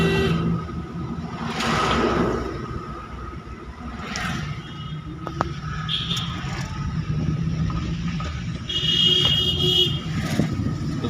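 A car moves along a road as a learner drives, its engine and road noise steady with brief horn toots and passing traffic nearby.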